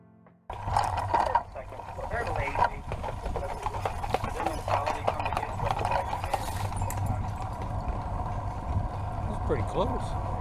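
A horse's hooves clip-clop steadily along a track on Mackinac Island, a close, regular rhythm of hard strikes that continues throughout over faint outdoor background noise.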